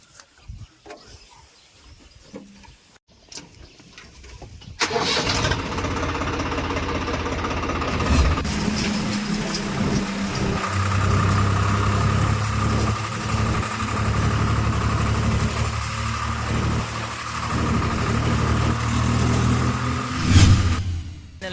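A farm tractor engine starts up and settles into a steady, loud idle close by, on a road before heading to a river to load sand, with a rough low rumble and a brief rev near the end.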